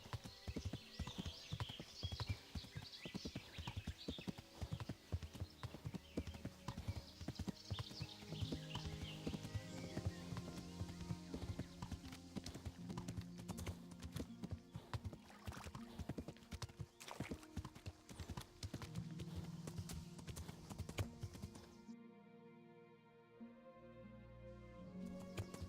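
Rapid, rhythmic hoofbeats of a horse trotting over ground in the video game Kingdom Come: Deliverance, steady and close for most of the stretch, then stopping near the end.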